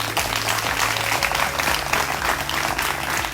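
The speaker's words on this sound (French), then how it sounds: "ils vont s'applaudir très très fort" Loud, sustained applause from a crowd of young entrepreneurs at a business competition before a jury, dense clapping with a low rhythmic beat underneath.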